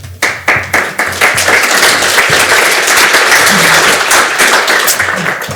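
A conference audience starts with a few separate claps that quickly swell into loud, continuous applause, close and full, then taper slightly toward the end.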